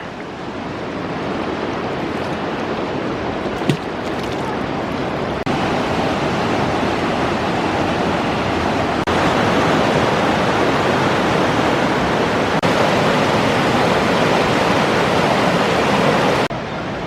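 Clear, fairly deep mountain river at Cades Cove in Great Smoky Mountains National Park flowing over stones: a loud, steady, close rushing of water that holds unbroken for the whole stretch, with no voices.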